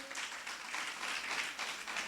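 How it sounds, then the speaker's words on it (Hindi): A church congregation claps for Jesus, a faint, continuous patter of many hands heard from a distance. "एक बार यीशु के लिए ताली बजाएंगे"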